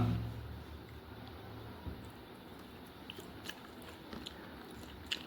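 Someone eating mutton pulao from Mahadevanna's in Gandhinagar, Shivamogga, with faint close chewing and soft smacking mouth sounds over low background noise.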